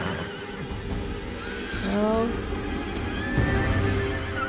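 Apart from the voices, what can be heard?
horses neighing at the stables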